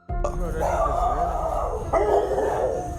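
Dogs barking and howling at night in Florida, a continuous agitated chorus at moderate distance with a louder burst partway through.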